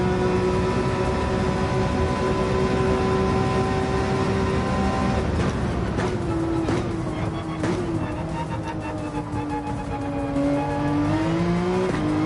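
A Nissan race car in the video game Gran Turismo 7 screams through a fast lap, its engine droning loud and steady with pitch dipping on downshifts and climbing again under acceleration.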